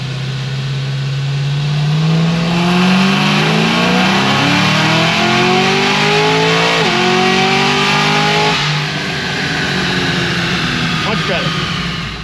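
An 800HP Cadillac CTS-V running on 93 octane revs hard on a dyno. A loud, close engine note climbs steadily in pitch for about eight seconds, then drops sharply as the pull ends and the engine settles.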